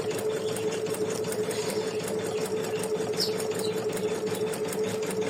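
An embroidery machine stitching the decorative steps of an in-the-hoop patriotic heart design runs with a steady, rapid mechanical whir and a fast, even needle rhythm, continuous and close, with no voices.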